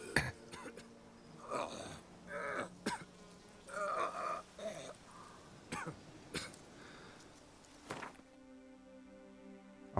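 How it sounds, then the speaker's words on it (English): A character in The Witcher 3: Wild Hunt, Blood and Wine expansion, coughing up blood: several rough, wet coughs and throat-clearing bursts spread over a few seconds amid quiet game sounds. "Oh, he's coughing up blood."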